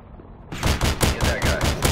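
An Osprey gunner's machine gun fires in a video game, a rapid, loud burst of rhythmic shots that erupts abruptly after a brief quiet moment.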